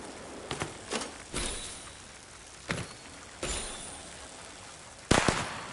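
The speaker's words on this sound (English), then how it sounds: "I was not expecting to land on fireworks." Fireworks bursting in the video game Infinity Nikki: a string of sharp, separate pops and crackles at irregular intervals, ending in a louder burst, with no talk over them.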